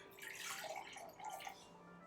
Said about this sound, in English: This is ice cold water.